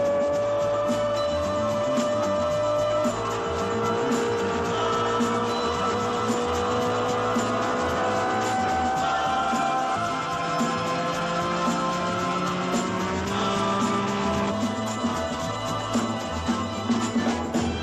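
Race cars from the Le Mans film, including a Porsche 917, roar at full throttle with engine notes that rise and fall steadily, loud and continuous with no talk over them.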